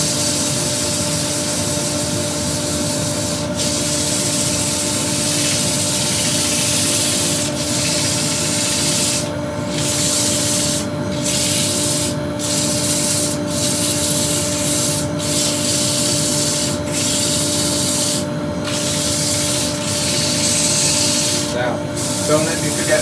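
A burr wood bowl spinning on a lathe is sanded with 100 grit paper beside close dust extraction, giving a continuous loud rubbing hiss with brief breaks and a steady background whir.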